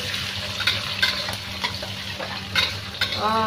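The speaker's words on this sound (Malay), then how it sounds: "So kita masukkan bawang hiris tadi. Okay. Dan kita tumis." Sliced onions sauté in a pan for sardine curry, with a steady close sizzle broken by repeated scraping stir strokes of a utensil against the pan.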